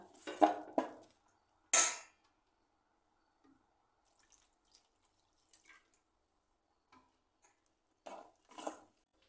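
Apple bajji batter is stirred in a bowl, giving sparse, quiet clinks and taps of a utensil against the bowl. The strokes come in short irregular bursts separated by quiet gaps.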